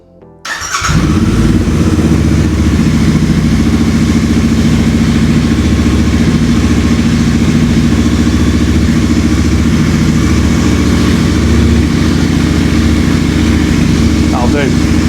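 A Royal Enfield Interceptor 650 motorcycle engine cranks and catches, then settles into a loud, steady idle that runs on close by without a break.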